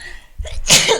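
A person sneezes once, loudly and close by, with a short breathy intake before a sharp burst.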